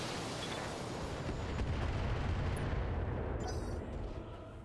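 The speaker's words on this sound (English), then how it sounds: "Firing all weapons." Weapons fire in the mech game BattleTech, with machine gun, flamer and medium laser shots blending into a loud, dense barrage of blasts and rumbling impacts that lasts throughout.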